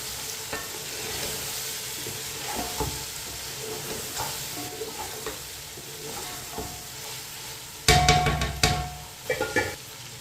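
Boiled meat gets stirred into a pan of frying, softened tomatoes and green chillies, with a steady close sizzle broken by scraping stirs and a louder clatter of spoon against pan toward the end.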